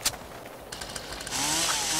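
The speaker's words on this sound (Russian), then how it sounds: "У меня есть бензопила." A chainsaw-like engine buzz revs up and holds steady in a busy scene in the game Crazy Killer, with sharp bursts and clatter before it.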